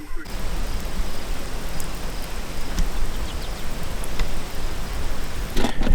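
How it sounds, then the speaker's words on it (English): Steady hiss of rain falling outdoors during tornado weather, a dense, even wash of noise throughout with a few faint crackles and taps. "It's already starting to rain actually right now."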